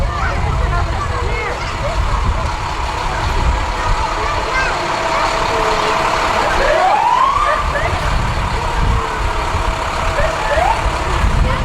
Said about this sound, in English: Divide County Ambulance following the fire trucks